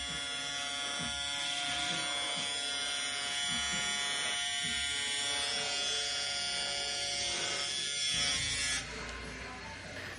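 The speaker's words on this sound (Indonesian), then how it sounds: "Kita clipper over comb lagi supaya hasilnya lebih halus." An electric hair clipper buzzes steadily while cutting hair over a comb for a burst fade, a close, continuous electric hum with faint textured variations as it passes through the hair.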